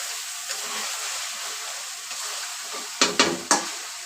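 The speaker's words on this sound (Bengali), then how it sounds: "মাংসটা কিন্তু খুবই সুন্দর করে কষানো লাগবে।" Chicken and spices for biryani being stirred and fried in a pan, a steady sizzle broken by a few sharp scraping stirs near the end.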